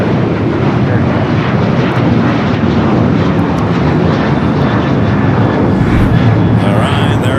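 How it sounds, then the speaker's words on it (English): A heavy Boeing 777 departs from the parallel runway at Los Angeles airport, a loud, broad engine roar that swells toward the end, with radio voices talking over it. "heavy 777 departing the parallel"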